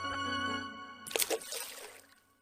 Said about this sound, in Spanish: evoca el sonido de una rana zambulléndose en el estanque de un templo